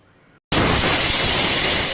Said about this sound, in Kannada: 1 ವಿಷಲ್ ಕೂಗಿಸೋಣ.